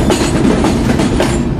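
A train rattles loudly along the rails, a dense, close clatter with rhythmic clicks from the wheels running through the whole moment.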